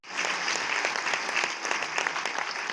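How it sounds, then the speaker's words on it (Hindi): Audience applause follows a patriotic Hindi song at a live performance, a dense, even wash of many hands clapping that sustains at steady loudness throughout. "ये तालियां आपके एक और शानदार गीत के लिए है।"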